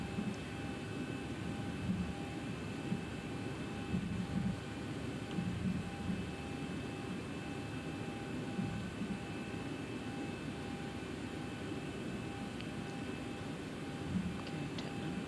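Engines of a Boeing 737-800 spool up for takeoff in a flight simulator game, a continuous, even drone with faint steady tones and no voices.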